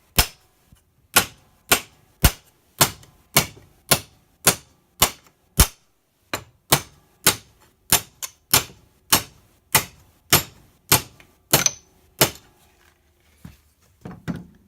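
Hammer striking metal held in a vise to form a ridge, about twenty sharp, loud metallic blows in a steady rhythm roughly every half second, close and alone, with a few softer taps at the end.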